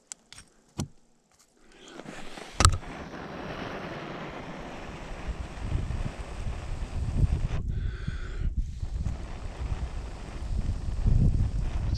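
Breezy winter wind blows steadily outdoors, where a coal is burning, roaring and gusting close to the microphone after a few faint knocks at the start, then swelling louder toward the end.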